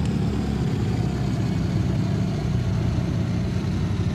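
A naturally aspirated car engine in Assetto Corsa runs on a dyno, a steady close mid-pitched engine drone with slight revving texture, continuous and loud with no talking.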